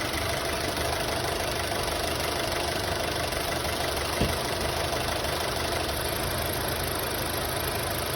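A 2016 Honda City, suffering intermittent shaking despite new coils, spark plugs and gas injectors, runs with a steady, loud, close engine drone and a slight rise when the throttle is pressed, with no voices.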